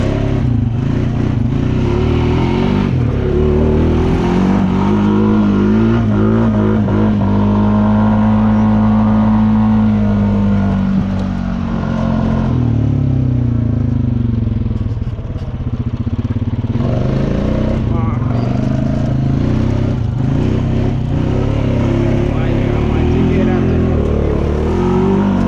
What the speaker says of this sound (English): It wouldn't be a video on the Rancher if we didn't do one donut.